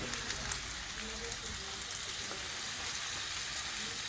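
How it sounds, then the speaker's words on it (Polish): A large burger patty frying in a pan, a continuous crackling sizzle with small pops at moderate distance, no speech over it. "I co, na dużym ogniu czy na małym? Jak to się smaży?"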